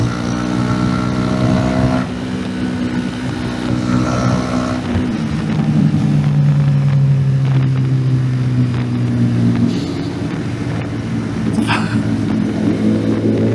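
A small motorcycle running near its top speed on the road, a loud, close engine drone that dips around the fourth and tenth seconds and then climbs back, with wind rush over it.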